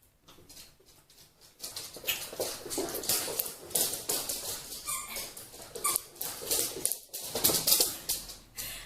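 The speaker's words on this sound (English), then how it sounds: "And that is the dog." A dog in a home nursery makes quick light tapping and pattering sounds, like claws on the floor, with soft whimpers mixed in, moderately near and continuous.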